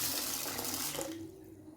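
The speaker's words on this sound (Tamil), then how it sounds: "இதில் தேவையான அளவு தண்ணி ஊற்றி நம்ம ஊற வச்சுக்கலாம்" Tap water pours into a bowl of washed, soaking green gram (moong), a close, bright splashing stream that fills steadily, then eases off and fades near the end.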